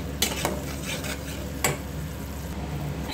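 Spice paste for fish curry is fried in a pan: a constant dense sizzle runs throughout, punctuated by a couple of sharp metallic clicks from a spatula striking the pot, close by, with no voices.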